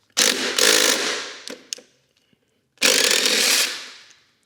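Motorcycle passenger pegs on a Norden 901 worked loose with a power driver and Torx T40 bit, two loud close whirring bursts separated by a pause with a few sharp clicks between.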